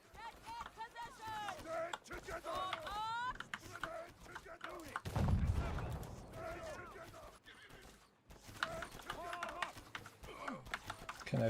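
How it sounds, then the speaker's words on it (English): Cannon fire in the video game Conqueror's Blade lands as one deep booming blast midway through a battle, surrounded by horse whinnies and hoofbeats, with people talking over the scene. "The cannon."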